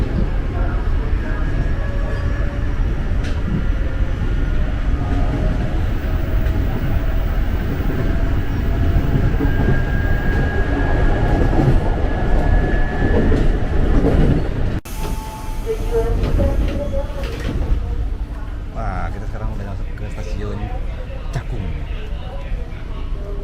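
A KRL commuter train pulls out of Cakung station, heard from inside the carriage: a steady loud rumble of wheels and motors fills the car, then the tone shifts partway through as the train moves on.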